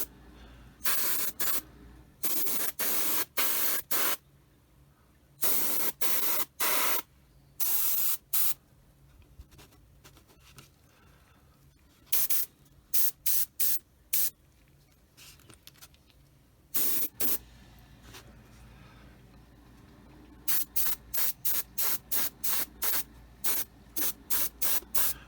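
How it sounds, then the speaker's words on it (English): Aerosol paint hisses from a spray can in repeated short bursts of one to two seconds, some grouped in quick pulses, with quiet gaps between, close and fairly loud during a tribute build. "this is not a paint you really want to hose on"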